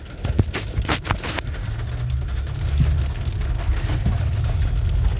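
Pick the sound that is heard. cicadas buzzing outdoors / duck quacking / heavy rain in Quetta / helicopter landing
heavy rain in Quetta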